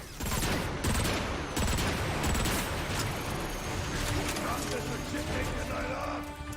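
Heavy artillery and gunfire pound in Transformers: Fall of Cybertron, a dense barrage of loud booms and rattling mechanical clatter, with voices talking over the battle.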